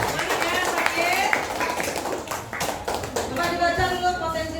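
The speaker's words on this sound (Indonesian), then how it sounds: "Tepuk tangan untuk teman kita Sakir." Classmates clap for a student called to the front of a classroom, a fairly close, uneven patter of hands that thins out partway through and then picks up again.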